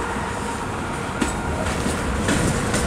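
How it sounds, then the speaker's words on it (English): A coal train rolls along the rails in a rail yard, a loud, steady rumble with rail clatter and occasional squeals running through the whole stretch. "This guy's going faster than that coal train."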